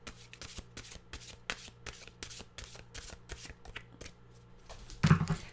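Oracle wisdom cards being shuffled by hand, a steady run of soft riffling slaps and flicks close up, fairly quiet, with a slightly louder shuffle burst near the end and no talking.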